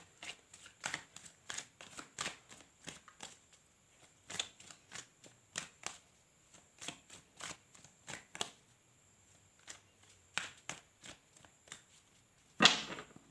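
Tarot cards are shuffled by hand, a string of short close riffling bursts in an irregular rhythm with gaps between, ending in one louder slap, no speech.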